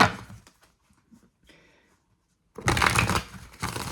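Crisp riffling bursts of a card deck being shuffled, near and clear, after a quiet pause with faint rustling.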